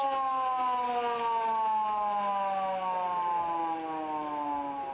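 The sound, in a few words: football ground siren signalling three-quarter time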